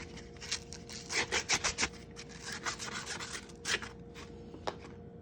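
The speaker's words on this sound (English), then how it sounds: "We're gonna take some 220 sandpaper. We're gonna hit the inside edge here, these two cut edges, to smooth it out." 220-grit sandpaper rubs against the cut edges of a 90% silver quarter coin ring in quick rhythmic strokes, faint and close, with brief pauses between passes.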